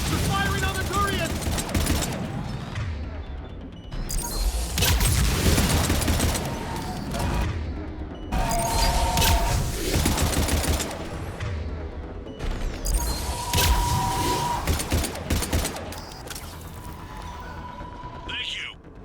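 Mass Effect 3 combat where a Harvester fires on a Turian platoon, with heavy bursts of weapon fire and booms in several loud waves and voices shouting over the noise.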